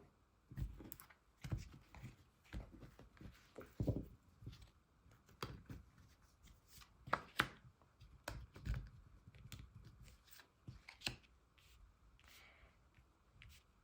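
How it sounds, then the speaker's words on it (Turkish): Tarot cards shuffled and cut by hand, giving soft papery flicks and riffles in scattered bursts, close and quiet, with light taps and rustles and no talking. "Kartlarımı kesiyorum"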